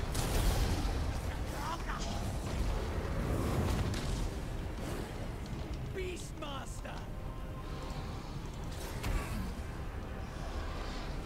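A defensive tower fires on units during a Total War: Warhammer II siege battle at Hexoatl, with booming impact shots punctuating a dense, continuous battle din of clashes and rumble.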